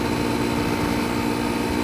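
A Honda CRF250L dual-sport motorcycle engine idles at a steady rumble, close and continuous, on a hot, humid day.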